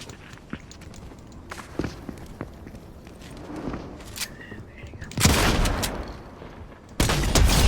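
Shotgun fire in a video game: two loud, close blasts ring out near the end, the first sustained, after a stretch of quieter footsteps and light movement sounds.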